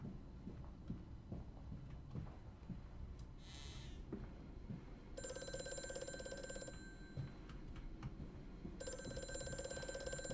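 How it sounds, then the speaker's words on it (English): An old telephone rings in the video game Amnesia: A Machine For Pigs, two bursts of bright bell ringing separated by a pause, faint over low ambient game drone. "That's a cool old phone."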